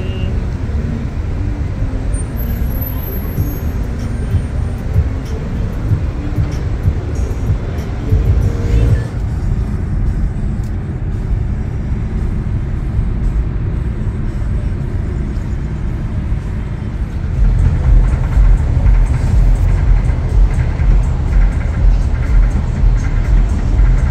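A red rental car drives along the Las Vegas Strip, its steady engine and road rumble carrying on continuously with surrounding traffic, growing slightly louder and fuller near the end.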